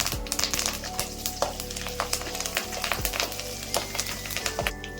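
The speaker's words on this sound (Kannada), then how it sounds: "ಮೆಣಸಿನ್ಕಾಯಿ ಫ್ರೈ ಆಗ್ತಾ ಇದ್ದಂಗೆ ಒಂಚೂರು ಕರ್ಬೇವು ಹಾಕ್ಕೊತಾ ಇದ್ದೀನಿ" Green chilies frying in oil in a pan for brinjal chutney, with curry leaves tossed in, give a steady loud sizzle with crackling bursts and occasional scraping clicks, no voices.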